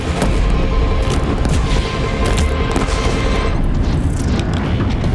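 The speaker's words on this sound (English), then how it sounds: "Sticky bomb!" Sticky bomb explosions in Horizon Zero Dawn during a fight against a machine produce loud, booming blasts with rapid crackling bursts, packed densely over a roaring battle background.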